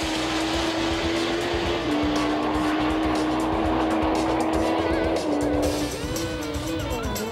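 A 1000cc production motorcycle races past at speed, a loud continuous engine whine shifting in pitch, with a commentator talking over it.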